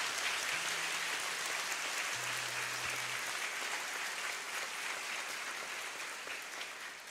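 Congregation at a religious gathering applauds steadily, a dense wash of clapping that holds for several seconds and tapers slightly at the end, with a low hum underneath.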